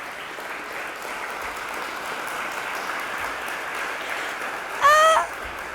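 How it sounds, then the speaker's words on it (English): Conference audience clapping at a Codemotion Milan 2019 talk on Clojure and 80s arcade games, a steady diffuse wash of many hands throughout, with a brief loud electronic game sound bursting in near the end. "I'm going to have to ask you to clap."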